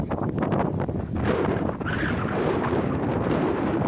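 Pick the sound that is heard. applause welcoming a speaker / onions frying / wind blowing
wind blowing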